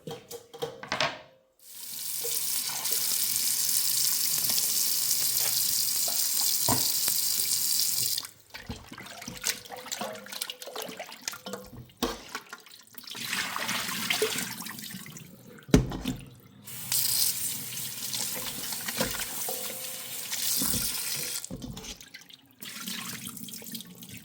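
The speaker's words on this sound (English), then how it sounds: "So now we're going to rinse it off, guys, with some vinegar and water." Running tap water pours steadily into a sink, interrupted a few times as chicken is rinsed under the stream, with splashes and brief gaps.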